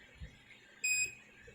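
A multimeter gives one short, clear electronic beep while testing a capacitor on an ATX computer power supply under repair, heard close against quiet background.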